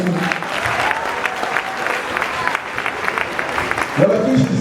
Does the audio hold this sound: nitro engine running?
no